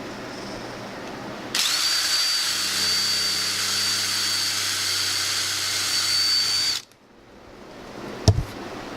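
A power drill whirs steadily at high speed into wood for a tiered plant stand for about five seconds, close by, then cuts off, followed by a single sharp knock.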